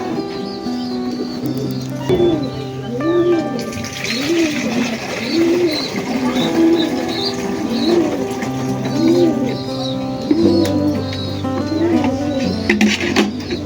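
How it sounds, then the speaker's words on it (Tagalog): Pigeons coo repeatedly in soft rhythmic phrases at a racing pigeon loft during a 270 km derby race arrival, with light chirps and rustling around them, steady and fairly close. "Mukhang andito na isa nating ibon."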